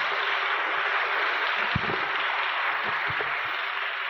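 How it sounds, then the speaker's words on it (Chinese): An audience at a Christian lecture claps in sustained, even applause, a dense wash of hand claps holding steady for several seconds with a few louder claps near the middle. "我哋再次俾一次热烈嘅掌声"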